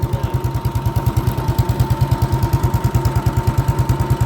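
A 1958 tractor engine idles at a ploughing match, its steady rapid thumping pulse loud and close throughout, with no voices over it.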